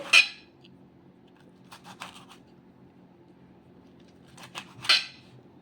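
A knife cuts tomatoes into pieces on a board in a quiet kitchen, giving a few sparse, sharp taps and clicks separated by long pauses, with no voices.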